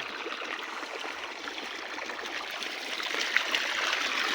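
Water from two running pump motors merges and flows into a farm irrigation channel at night, making a steady close rushing and trickling stream that grows slightly louder toward the end.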